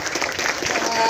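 Audience clapping at a campus election forum in Kupang, a short burst of mixed applause with crowd noise, cut off quickly.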